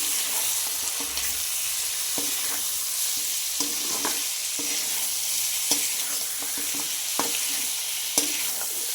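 Chicken frying with ginger and garlic, stirred in a hot pan: a constant bright sizzle broken by regular scraping and tapping strokes of the spoon, close up and with no talk.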